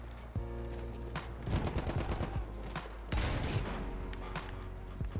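Rapid bursts of gunfire from Battlefield 1 ring out close and loud, with several clustered volleys of sharp shots over a deep rumbling battlefield drone.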